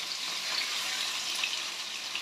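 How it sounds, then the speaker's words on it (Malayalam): Sardines fry in a pan over low flame, giving a faint, continuous soft hiss with light crackles throughout. "അടിപൊളി മീൻ വറുക്കലാണ്."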